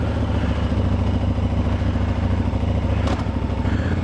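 A motorcycle being ridden, its engine a steady near drone throughout with a brief clatter or wind burst toward the end.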